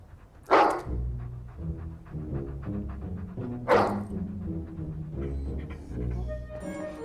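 Dog barking indoors in a cluttered house, two loud sharp barks about three seconds apart, with softer whimpering and background music or room noise between them.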